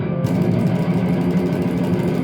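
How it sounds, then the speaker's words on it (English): Palm-muted distorted electric guitar chugs a rapid death metal riff in steady 16th notes, loud and dense throughout with no talking. "If you want to play like this, you've got to get used to just playing 16 notes in 1 second."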